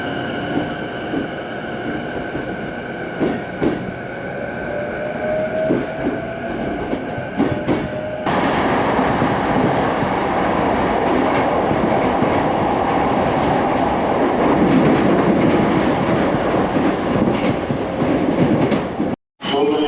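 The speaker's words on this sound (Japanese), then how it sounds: "こちら京葉線経由の東京行きの電車になります。 では、こちらの電車に乗車したいと思います。" A Tokyo-bound train via the Keiyo Line in Chiba, Japan runs steadily on rails with a continuous rumbling roar that swells louder partway through, then cuts off abruptly near the end.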